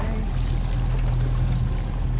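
Fishing boat engine held at a steady throttle while salmon fishing on Puget Sound, a constant low droning hum with water wash over it, close and unbroken.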